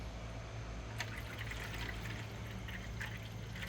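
Water is poured into a container while preparing a wash for taro plants, a steady splashing trickle that begins about a second in and continues evenly, fairly close, with no talking.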